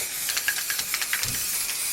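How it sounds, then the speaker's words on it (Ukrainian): Aerosol paint can, warmed first with a hair dryer, spraying a Honda CB 500 motorcycle exhaust pipe: a steady close hiss with short pulsing bursts as the nozzle is pressed repeatedly. "Нагрів трошки феном, балончик, тоді тиск краще є і ліпше розпилення"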